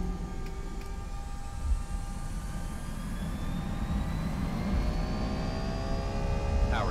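Airbus A320 jet engines spooling toward takeoff power in a flight simulator, a steady low rumble with faint whining tones that climb gradually, moderately loud and continuous.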